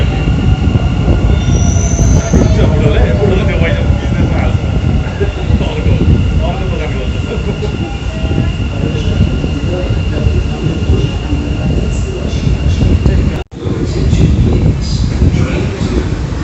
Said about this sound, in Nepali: यो साइडको पनि आयो त मेट्रो